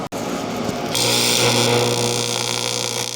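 A car fuel filler panel is welded with foot-controlled amperage, starting with a sharp click and then settling into a loud, steady electric buzz and crackle that holds evenly to the end, with no talking.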